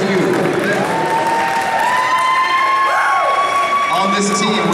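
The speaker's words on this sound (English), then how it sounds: "Now please join me in giving a big round of applause to your gold medal winners, the Shelby County Magic, coached by Al Gamb" An audience at a Special Olympics state basketball championship claps and cheers for the gold medal winners, a loud, steady crowd roar with whistles and whoops rising over it.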